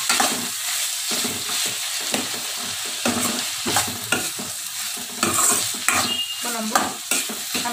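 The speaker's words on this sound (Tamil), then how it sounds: "தக்காளி போட்டு நல்லா வதக்கணும்." Tomatoes and onions sautéing for a plain kurma, a loud, close sizzle with constant brisk stirring, the spoon scraping and tapping the pan in an uneven rhythm.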